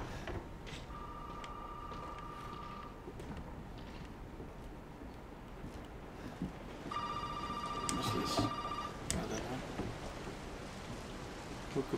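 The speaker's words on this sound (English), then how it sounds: "Oh, we got a phone call." Phone ringing in the horror video game Resident Evil 7: two bursts of an electronic bell tone, the first short and the second longer, set against a constant rain-like rumble of game ambience.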